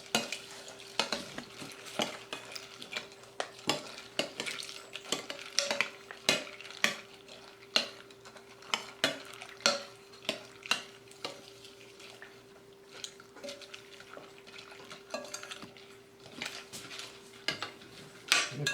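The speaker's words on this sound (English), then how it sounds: "Give her a stir, stir," Beef stroganoff with noodles stirred in a pot at a camp meal, a steady run of soft scraping and clinking utensil strokes against the pot, close and fairly quiet, with a faint steady hum underneath.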